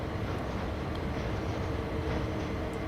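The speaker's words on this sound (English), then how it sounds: "I think we can stop the train anywhere in this blue circle." A loaded freight train in Train Sim World 3, on the Cane Creek line near Potash, rumbles steadily as it brakes toward a stop, a continuous close, loud rolling roar with faint high squeals, no talk.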